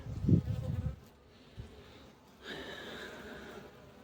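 Honeybees buzz around a hive during a queen bee check, with a brief louder low hum at the start and then a fainter buzz that rises again near the end.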